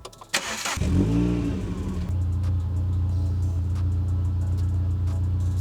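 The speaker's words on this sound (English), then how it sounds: "there is a ever so slight misfire with this car" A Renault Clio RS 197 with a slight misfire cranks and starts, briefly revs, then settles into a steady, close idle that runs on alone.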